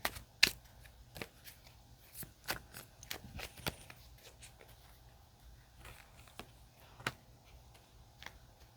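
Tarot cards are shuffled in a quiet room, giving a scattered run of soft, sharp flicks and taps at an uneven pace, close and faint, with nobody talking.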